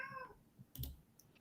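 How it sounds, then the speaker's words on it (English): A house cat screeches briefly in the background, a short faint wavering cry at the start, followed by a few soft clicks and quiet room noise. "my cat screeches in the background."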